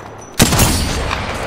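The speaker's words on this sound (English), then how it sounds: "I'm getting shot at." Sudden burst of gunfire aimed at the player in Apex Legends, a loud dense volley erupting after a quiet lead-in and rattling on with steady shots and rumble to the end.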